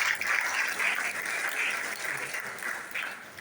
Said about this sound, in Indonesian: Tepuk tangan lagi untuk Man 2.